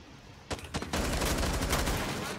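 Rainbow Six Siege gunfire: a few sharp separate shots, then a sustained rapid burst of automatic fire that rattles on steadily to the end.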